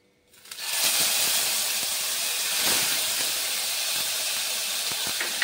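Ginger paste sizzles and fries in a hot pan after cumin tempering, a sudden steady hiss that starts abruptly and holds loud and close throughout.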